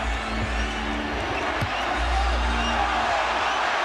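A packed arena crowd at an NBA playoff game between the Spurs and the Lakers keeps up a steady, loud roar with rising murmurs of reaction, while a commentator talks over it.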